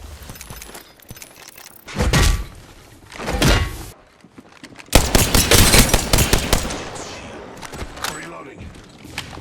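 Gunfire in Apex Legends: a couple of separate heavy bursts followed by a longer, dense spell of rapid automatic shooting, loud and close, with a voice speaking in between.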